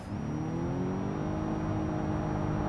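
A car engine in BeamNG.drive drones steadily with a rising whine, like a continuously variable transmission holding revs, loud and close.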